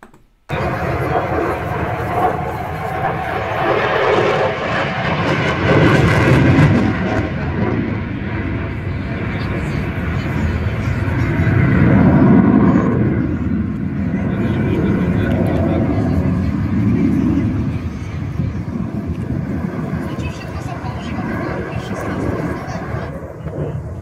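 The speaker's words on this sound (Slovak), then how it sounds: "ja vám teraz ukážem video, ktoré som natočil F-16 priamo v akcii. Prelietovala nám nad hlavami a strašne to rinčalo." An F-16 fighter jet passes directly overhead, a loud sustained roar and rumble that swells and holds for over twenty seconds with a rattling edge, close and dominant.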